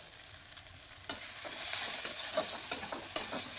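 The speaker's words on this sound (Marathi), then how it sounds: "2-3 मिनिटं छान हलवत राहायचं" Batata poha with sugar and coriander stirred in a pan, a soft frying hiss with several sharp spoon scrapes and clinks at irregular intervals.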